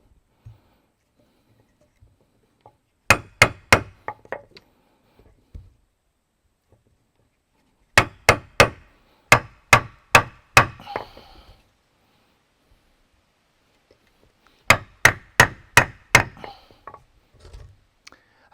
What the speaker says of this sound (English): And then I'm going to dig into it with my hammer and the machete.